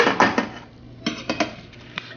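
Roasted garlic potatoes tipped onto a metal oven tray, giving a handful of sharp clattering knocks and scrapes with short pauses between.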